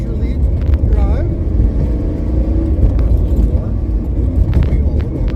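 A third-generation Chevrolet Camaro drives a race track at a relaxed pace, its engine producing a steady, loud low rumble throughout with no big revving, while someone talks over it.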